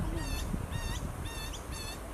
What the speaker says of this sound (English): Another baby of the grey butcher bird.